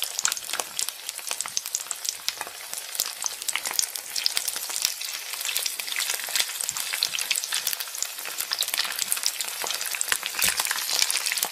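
Onion, mustard seeds and fennel tempering in hot oil, a loud dense crackling sizzle with rapid popping spatters running continuously, no speech.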